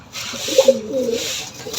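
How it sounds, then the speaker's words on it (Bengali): Red-bordered Jalali pigeons in a home pigeon loft give a soft, throaty coo, a short rolling phrase heard close up over faint rustling. "জালালি কবুতর।"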